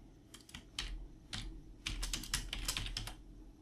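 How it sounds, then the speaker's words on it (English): Someone types a drive label for a USB stick on a computer keyboard, producing a run of quiet, close, irregular key clicks in short bursts with no voices. "in here I can type a label"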